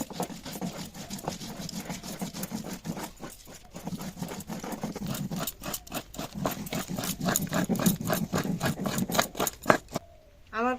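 Fennel seeds and cardamom being ground in a kitchen, probably in an electric grinder, with a steady rhythmic mechanical whirring and rattling that stays loud and close, then cuts off abruptly near the end.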